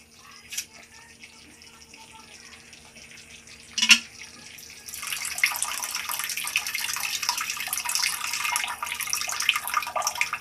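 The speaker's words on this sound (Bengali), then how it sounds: "এই অবস্থায় আমি এবার একটু জল দিয়ে দেব" Water added to hot oil in a pan for doi pona, bringing a quiet opening with a couple of clinks before a sudden, sustained spluttering hiss that continues steadily to the end.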